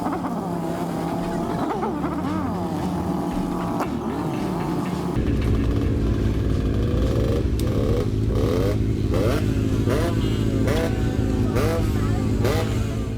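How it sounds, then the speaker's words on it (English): A small two-stroke motorcycle engine buzzing and revving nearby, with rising and falling pitch, continuous throughout with some background noise. "The engine sound you hear is surely from a two-stroke small motorcycle."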